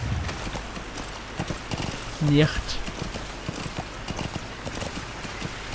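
Horse hooves clip-clop steadily and close in Metal Gear Solid V, a continuous run of soft rhythmic beats, while someone speaks German over them.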